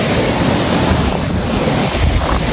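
Water rushes hard over a waterfall in a dense, loud, unbroken roar filling the whole moment, with no voices on top.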